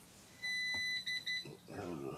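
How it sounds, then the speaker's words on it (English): A smoke alarm sounds a high electronic beep in short pulses for about a second, fairly faint, then voices take over as people begin talking. "I heard that smoke alarm."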